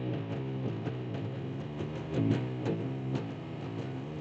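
A palm-muted electric guitar chugs through a riff in tight, steady repeated notes, with a heavier accented hit partway through, played alone and close.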